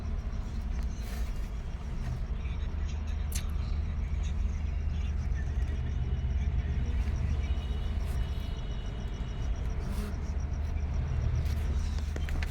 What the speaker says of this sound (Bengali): সাঁতরাগাছি পার্কিং।